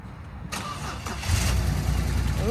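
Old BMW car engine cranking briefly and catching, then settling into a loud, rough idle close by, with a short voice heard over the running engine.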